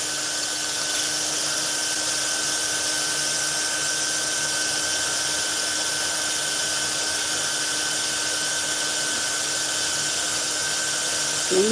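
A power sander runs steadily throughout, a continuous whirring buzz with a constant high-pitched whine, close and unbroken for the whole stretch.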